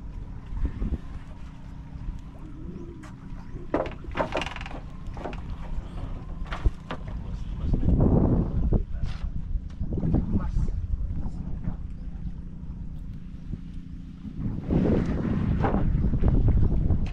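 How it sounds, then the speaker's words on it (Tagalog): Gusty outdoor wind buffets the microphone in uneven waves while people talk intermittently in Tagalog over it. "Sarap ng hangin dito"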